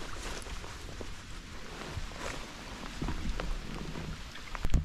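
Steady rain patters down over a river while drifting in a boat to fish for pike, a soft continuous hiss with scattered nearby drops and light knocks, fairly quiet and close.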